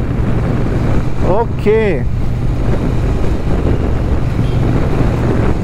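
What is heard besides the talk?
Triumph Bonneville T120 motorcycle riding, 1200cc parallel twin engine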